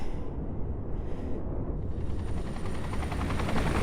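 A helicopter in the Crisis Core video game thrums loudly and continuously, a dense rotor roar that swells and fills the scene with rumbling, alongside bursts resembling gunfire.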